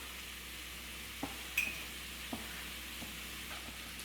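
A pan of mixed vegetables with green peas is stirred for a vegetable kurma. A faint, soft sizzle is broken by a few sparse clicks and scrapes of the spoon, quiet and close.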